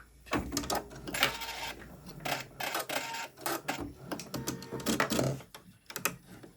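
An embroidery machine stitches scallops in rapid, irregular bursts of clattering needle strokes, close and fairly quiet, with brief pauses between runs.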